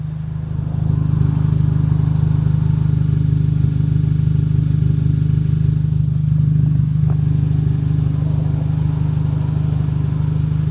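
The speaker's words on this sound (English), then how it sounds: "This is how it sounds like now with the car warmed up." A warmed-up Volkswagen Mk6 GTI with an aftermarket catback exhaust idles steadily, giving a loud, even, deep drone up close that holds constant throughout with no revving.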